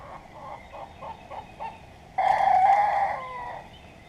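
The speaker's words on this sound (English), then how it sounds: "One of our hens is starting to try to crow." A hen attempts to crow in a backyard flock, giving a few soft clucks followed by one louder, strained, rooster-like crow that trails off, close by and with no talking.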